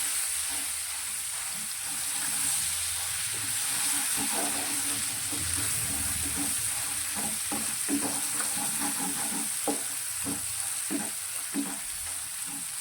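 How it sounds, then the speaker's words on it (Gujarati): Garlic chili paste sautés in oil over a low flame, a quiet steady sizzle broken by repeated scraping stirs against the pan. "લસણ મરચાંની પેસ્ટ તૈયાર કરી છે તે અંદર લઈ લઈશું. અને તેને પણ તેલમાં સારી રીતે સાંતળીશું."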